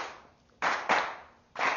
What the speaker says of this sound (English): I want you to clap that.